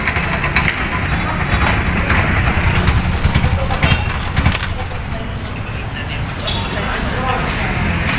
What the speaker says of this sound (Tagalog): patayin ko muna yung ating makina